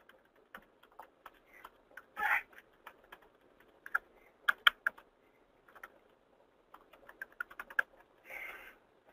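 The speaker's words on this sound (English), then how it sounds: "Type in our credentials." Login credentials typed on a computer keyboard in short bursts of crisp keystrokes, with pauses between and a couple of louder clustered strokes, close and clear in a quiet room.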